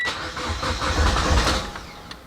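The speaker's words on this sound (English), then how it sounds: "Now we're going to go ahead and start the car, let it bog out, and then hit it again." A Mitsubishi Evo X with its fuel injectors disconnected cranks and turns over briefly, a rough mid-pitched engine churn lasting about two seconds without catching to a steady idle.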